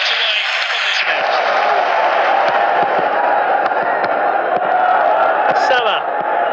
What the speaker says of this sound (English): a big expectant crowd here to watch these two teams